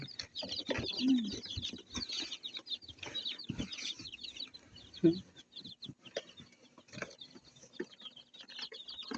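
Chicks and a mother hen cluck and peep inside a coop, a busy run of overlapping short calls with a few louder clucks close by, while people talk faintly in the background.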